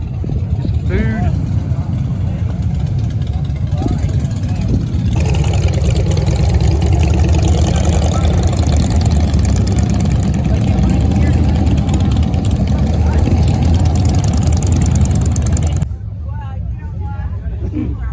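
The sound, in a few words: motorcycle engines arriving and idling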